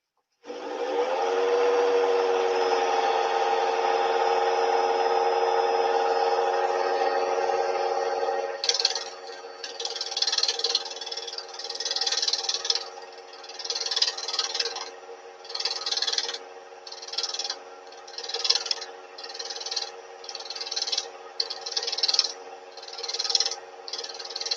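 A wooden workpiece spins on a lathe as a tenon is turned. A steady motor hum comes first, then the tool bites in with rough, scraping bursts that come and go in an uneven rhythm.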